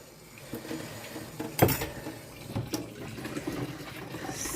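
Tap water runs and splashes into a container of sourdough starter, a short soft pour with a brief louder gush partway through and faint clinks.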